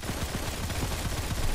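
Rapid automatic gunfire from the SOCAR rifle in the mobile shooter Modern Combat 4: Zero Hour, a dense, steady burst of muffled shots throughout, loud and close.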